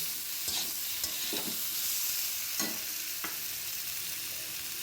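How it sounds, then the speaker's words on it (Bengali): Broth going into a pan of sautéed vegetables and spices for a fish and bean curry brings a steady sizzling hiss, broken by a few soft scraping stirs, close and moderately loud with no talking. "আমার সবজিগুলো কষানো হলো, এবার একটু ঝোল দিয়ে দিচ্ছি"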